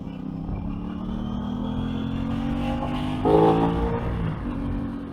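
An Aprilia RS660 sport motorcycle on a test ride, its engine droning steadily and rising in pitch as it accelerates, with a brief louder surge midway under constant wind rush.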